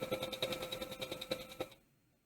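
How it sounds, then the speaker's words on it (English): A sewing machine stitching fabric for a reusable bag, a quick rhythmic run of close mechanical needle thumps with a faint motor whine, a brief back stitch, then stopping into quiet. "I'm going to do a couple stitches and then I'm going to back stitch"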